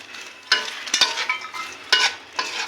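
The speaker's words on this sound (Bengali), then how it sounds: "এখন আমার ভেজে রাখা পদ্মগুলোকে দিয়ে ভালোভাবে এভাবে নাড়াচাড়া করে দেবো" Fried popcorn is stirred into a slightly cooled sugar syrup for popcorn murki, with close, rhythmic scraping and rustling strokes in short bursts against the pan.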